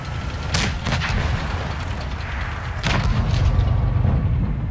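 A tank cannon firing a premium round in the World of Tanks video game, with two loud broadband booms about two seconds apart over a steady rumbling engine drone.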